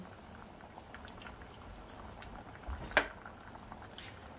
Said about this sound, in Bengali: আচ্ছা, ডালটা ফুটে উঠেছে